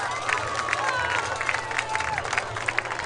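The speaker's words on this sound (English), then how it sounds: "Let's give them another round of applause." An indoor audience applauds at a school sports team recognition, with steady, dense clapping and some cheering and crowd murmur throughout.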